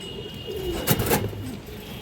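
A racing pigeon coos softly nearby, a short low burbling call repeated over two seconds against quiet background noise.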